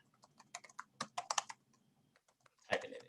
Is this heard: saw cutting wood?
no